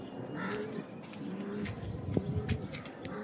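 A pair of Kalanka pigeons cooing softly at a breeder's sale, low murmuring coos repeating faintly against steady background noise, with a brief sharper sound near the end.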